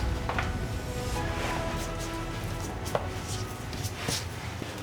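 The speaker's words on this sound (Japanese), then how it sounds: "今からネタの方を切っていきます。" A sushi chef's knife cuts fish toppings for nigiri on a board, with soft scattered contact taps and faint slicing over a steady low kitchen hum, no talking.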